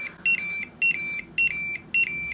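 A Tamagotchi virtual pet beeps in four short, evenly spaced bursts. Each burst is a quick double chirp of shrill electronic tones, close and clear over a quiet background.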